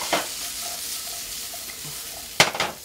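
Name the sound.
vegetables sizzling as they cook in a pan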